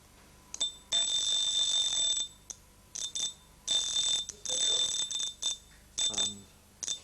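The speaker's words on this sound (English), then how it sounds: "I'll turn this on to alarm." A mechanical alarm clock, its alarm spring freshly oiled, rings in loud bursts of bright metallic clatter, one long stretch followed by a string of shorter, uneven rings with brief gaps between them.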